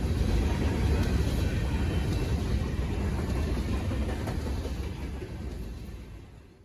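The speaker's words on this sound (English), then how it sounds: "I was able to catch a couple trains coming through the area. Very long grain trains," A long grain freight train rumbles past in Kenora with a continuous low roar and rattle of cars, steady and heavy, slowly fading toward the end.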